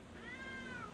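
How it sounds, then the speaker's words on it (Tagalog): A single drawn-out cat meow, close and clear, rising then falling over about a second. "ito na yung pusa ang ingay"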